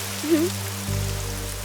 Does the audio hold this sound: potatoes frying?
no